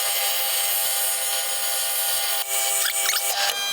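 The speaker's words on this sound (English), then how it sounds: "we'll turn the lathe on and drill that centre" Steady lathe whine with a constant harmonic hum, then a harsher scraping, grinding tone as a centre drill bites into metal near the end.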